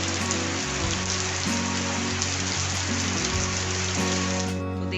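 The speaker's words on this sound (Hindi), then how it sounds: "बहुत ज़्यादा बारिश हो रही है।" Heavy rain pours down steadily around a house, a dense, even hiss of drops on surfaces that stays loud and constant throughout.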